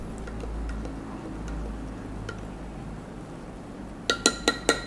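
A spoon clinks rapidly against a glass while stirring instant iced coffee, about five sharp taps in quick succession following a quiet stretch of low background hum.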